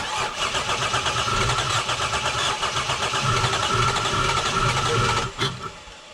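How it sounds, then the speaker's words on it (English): A Toyota 2JZ-GE engine cranks steadily without catching, the starter motor churning in an even, rapid rhythm for several seconds before stopping abruptly, loud and close. "So you just heard the vehicle cranks but it does not start"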